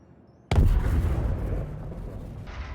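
A Hornet Mk II spaceship in a sci-fi game self-destructs with a sudden deep blast, followed by a long rumbling roar that slowly fades, heard alone with no voices.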